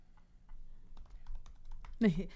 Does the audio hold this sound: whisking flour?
no